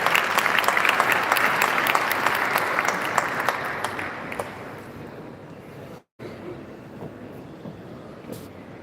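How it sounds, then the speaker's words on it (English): Applause from the audience at an economic summit as panelists are called onto the stage: strong clapping at first that gradually thins and fades, then a short break and a quiet room tone. "Round of applause, please."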